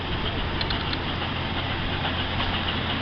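A 2008 Ford F-250 Super Duty XL crew cab pickup with a 5.4 liter gas engine idles with a steady, moderately loud rumble and no talking over it.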